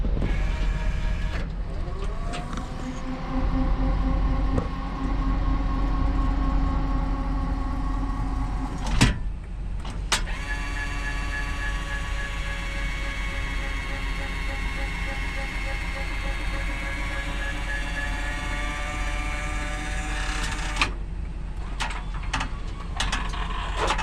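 A wheelchair lift in a 2014 Nissan NV3500 passenger van folds and stows with a long mechanical motor whir, interrupted by a couple of clunks and rattles, while someone talks quietly.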